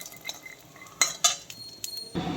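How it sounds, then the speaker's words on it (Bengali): Nuts frying in a little oil in a wok, with a low sizzle under sharp metallic clinks and scrapes of a utensil against the pan, followed by a steadier burst of frying at the end. "তেলে এটা ভেজে নেব ভালো করে।"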